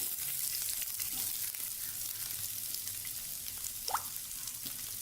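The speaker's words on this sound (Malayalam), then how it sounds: "രണ്ട് സവാളയാണ് അതിട്ട് കൊടുക്കുന്നു" Two sliced onions go into hot oil in a pan for a cauliflower curry. A soft, continuous frying sizzle runs the whole time, with a brief scraping sweep near the end.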